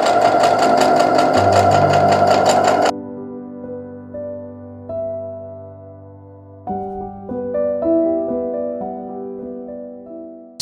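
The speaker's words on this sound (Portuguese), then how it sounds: "Então, vamos lá na máquina reta." A straight-stitch sewing machine stitches a pillowcase, running loud and steady for about three seconds before stopping. Quieter sustained tones follow.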